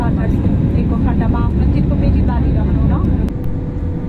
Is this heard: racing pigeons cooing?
no